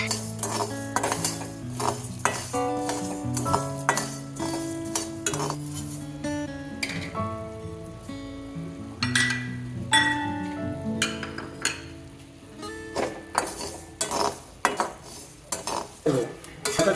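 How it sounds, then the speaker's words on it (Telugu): A spoon clinks and scrapes repeatedly in a pan as cumin and spices fry lightly for chicken pickle. The taps come close and irregular, with a faint sizzle underneath and a steady tonal backdrop throughout. "ఇవన్నీ కొంచెం వేపుకోవాలి, లైట్గా వేపుకోవాలి"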